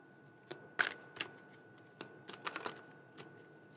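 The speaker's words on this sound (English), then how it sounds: "These being channeled message cards, I'm wondering if I'm shuffling and saying things" Channeled message cards are shuffled in a quiet room, giving a string of soft, irregular papery riffles and flicks with gaps between them.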